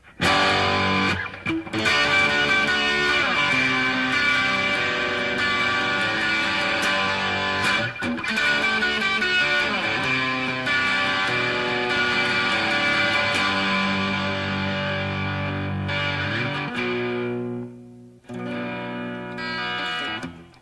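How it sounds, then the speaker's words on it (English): An electric guitar riff blares through a small amplifier set for heavy distortion, thick sustained chords and repeated phrases played continuously, loud and close, ending with a few short stabs after a brief pause. "We've got a little amplifier at the side here that's kind of got a lot of distortion on it"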